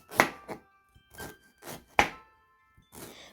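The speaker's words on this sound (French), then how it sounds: "je coupe finement le galanga" A knife finely chops galangal on a board in a handful of distinct strokes, sharp close thuds spaced irregularly about half a second apart, with quiet gaps between and no talking.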